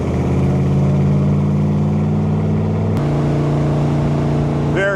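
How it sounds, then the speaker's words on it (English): A Corvette's 495 engine idles loud and close with an aggressive, lumpy exhaust note, a steady rumble that shifts slightly in pitch partway through. "The idle's quite aggressive."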